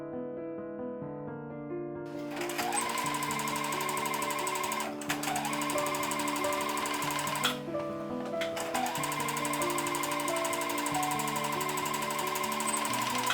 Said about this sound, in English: Press the seam towards the back and sew.